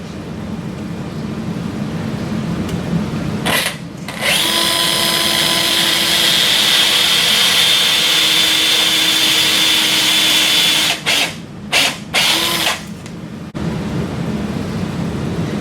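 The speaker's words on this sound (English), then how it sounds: "Drive the carpal twist drill over the guide pin until the shoulder of the drill is flush with the articular" Carpal twist drill driven over a guide pin into a sawbones model of the capitate during a total wrist arthroplasty, giving a steady, close power-drill whine for about seven seconds, bracketed by short drill bursts.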